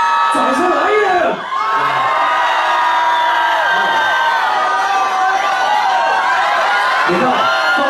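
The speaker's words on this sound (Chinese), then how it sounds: "掌声来一人" An audience in a bar in Wuxi, China, cheering a live performance, with loud, continuous shrieks and whoops from many voices packed close together over a speaker talking.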